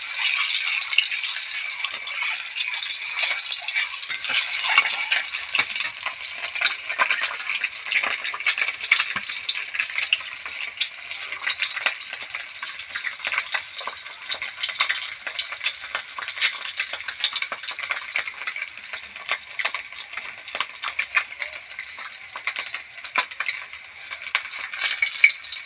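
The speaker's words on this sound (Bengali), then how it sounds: "ডিমটা আমি লাল লাল করে ভেজে নেব।" An egg fries in oil in a pan for an egg and soybean curry, giving a steady, close hiss and crackle of sizzling that runs unbroken throughout with no voices.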